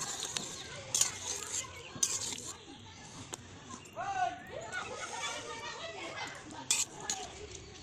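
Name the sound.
covering the pot of cooking meat with a lid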